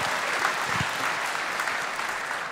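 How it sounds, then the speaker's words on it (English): An audience at a live-streamed event claps in a steady, dense round of applause that holds evenly throughout, fairly distant and continuous with no talk over it. "let's another round of applause for these four wonderful organisations"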